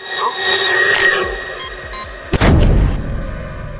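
A self-destructing Spider-Man Multiverse toy suitcase explodes. A few beeps are followed by a single sudden loud bang and a rumbling tail, close by.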